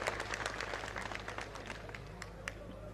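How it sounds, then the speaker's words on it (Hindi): A crowd at an outdoor election rally in Srikaranpur claps to welcome a candidate, a brisk, somewhat distant burst of applause over a low steady hum that fades slightly near the end. "एक बार जोरदार तालियां बजा के उनका स्वागत करें।"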